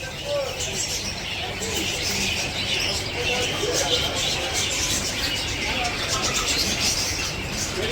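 Birds at a crowded bird market chirp and tweet continuously with soft cooing among them, a busy layered chatter that carries on steadily beneath occasional nearby voices.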